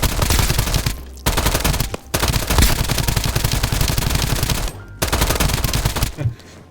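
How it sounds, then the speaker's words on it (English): Rapid automatic bursts from an elemental gun in the video game Escape from Duckov, loud and close, firing in long sustained volleys separated by short pauses. "it's the type of gun that you keep shooting until you hit something"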